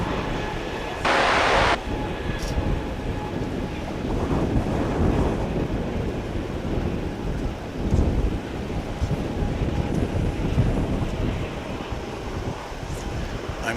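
Heavy wind buffets a microphone outdoors at Dallas-Fort Worth International Airport, a constant loud rumbling roar with gusty swells and a brief harsher burst near the start.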